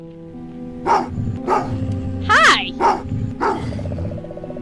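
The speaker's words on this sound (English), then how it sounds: "That dog attacked as soon as you entered your neighborhood." A dog in the Goosebumps video game lets out a run of sharp, loud barks and a yelping cry over a low synthesized music drone, with a brief spoken greeting among them.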